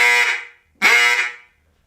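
A double reed duck call blown with warm breath, heard as two drawn-out reedy quacking blasts, each close, loud and fading off at the end, with a short gap between them and no voice.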